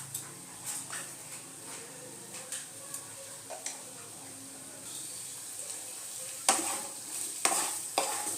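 Raw jackfruit, potato and prawn curry sautés with spices in a pan, a low simmering sizzle broken by repeated spatula scrapes and taps, several sharper strokes near the end.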